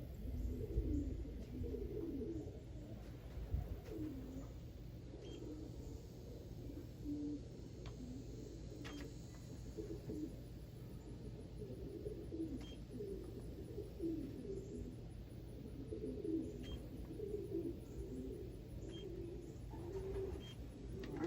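Racing pigeons coo steadily in a loft, soft overlapping murmuring calls repeating throughout against a low ambient hum, with no talking.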